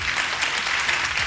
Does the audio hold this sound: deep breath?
no